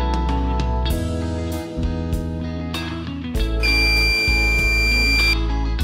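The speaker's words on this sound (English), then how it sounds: "Here I have used 6 volt buzzer." A 6-volt buzzer wired into a homemade door alarm built from a used plastic bottle gives a steady, high electronic tone partway through, set against a busy background of other sustained tones.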